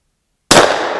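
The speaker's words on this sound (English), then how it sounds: "That's the correct way to shoot a shotgun." A single loud, close shotgun blast aimed at a target can, from a Ruger Red Label, bursting out of silence and trailing off in a short echoing decay.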